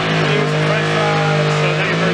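A turbocharged LS-swapped Mustang accelerates hard in high gear, a loud, steady engine roar with sustained harmonic tones holding throughout, close to the listener.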